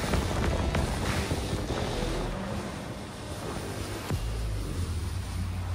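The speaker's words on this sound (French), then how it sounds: "il faut garder un petit peu la turbine pour pouvoir diriger le jet ski" A jet ski engine runs on the water as the craft heads out of a port at low speed, a loud rushing drone mixed with wind buffeting the microphone and water noise.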